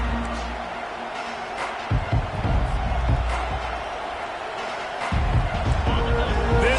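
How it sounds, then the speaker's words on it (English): Loud stadium crowd roaring at a Notre Dame vs Miami college football game just after the opening kickoff, a dense continuous wall of noise that swells near the end, with a commentator talking over it. "This crowd bringing an ear-splitting welcome to their visitors."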